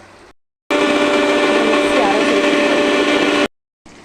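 An electric mixer grinder whirs loudly for about three seconds, grinding ginger, garlic, coconut and onion for chicken curry, with brief quieter moments before and after.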